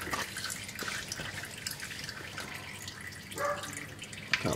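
Engine oil drips from the sump of a Ford FG car during an oil change, a faint scattered patter of drops over quiet background, with a louder splash near the end.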